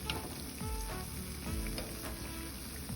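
Banana bonda fry in hot oil with a steady, close sizzle and crackle, dense bubbling hiss throughout with a few small pops.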